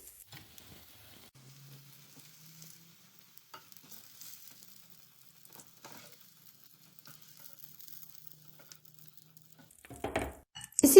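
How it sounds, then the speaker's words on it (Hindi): Potato gola kebabs fry in hot oil with a faint, steady sizzle, and a louder burst of stirring and clatter comes near the end. "इसी तरह ये हम जो बाकी कबाब रह गए इनको भी फ्राई कर लेंगे"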